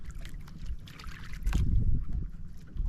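Low rumbling water noise with six fishing boats churning nearby, a steady wash under light wind, swelling louder about halfway through.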